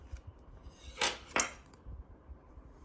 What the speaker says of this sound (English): I'm taking little bit of peanut butter and I will apply it on our bread